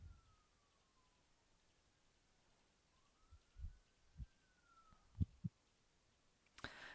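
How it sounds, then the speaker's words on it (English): A faint siren wails far off, its pitch slowly rising and falling over quiet background noise, with a few soft thumps near the end. "I live in one, and there's a siren right now."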